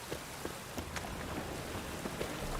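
Steady video game rain pours continuously, a dense hiss of drops with occasional louder splats on a hard surface, no voices.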